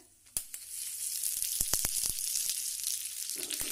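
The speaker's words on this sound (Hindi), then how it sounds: "गैस बंद करने के बाद हम कड़ी पत्ता डालेंगे नहीं तो बहुत तेज तड़कता है" Curry leaves dropped into hot oil for a sambar tempering, with the flame turned off, burst into loud crackling sizzle, sharp pops on a steady frying hiss close by, no talking.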